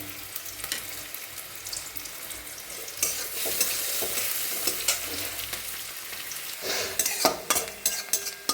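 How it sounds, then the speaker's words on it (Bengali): Onions fry in a pan with a steady crackling sizzle, close and continuous, while a utensil stirs and scrapes intermittently, growing busier toward the end. "পেঁয়াজগুলো হালকা ভাজা হয়ে গেছে"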